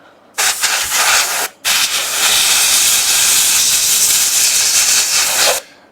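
Airbrush spraying paint onto a painted Mando figure: a loud, close, steady hiss in two bursts, a short spray then a brief pause before a long continuous pass.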